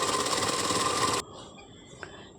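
A sewing machine sewing a straight seam on a nightie runs steadily for about a second, then stops abruptly, leaving a quiet room with a faint click.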